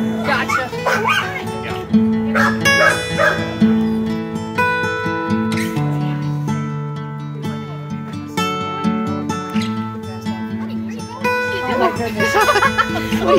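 A big shelter puppy barks, yips and whimpers in short bursts throughout, close and fairly loud, mixed with music and people talking over it.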